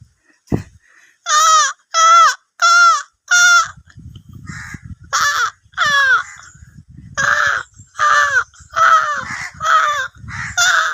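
A man mimics crows with loud, nasal caws delivered close up in irregular bursts, some rapid and some spaced out, over faint rustling and handling noise.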